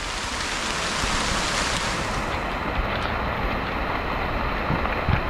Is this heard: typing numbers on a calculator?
no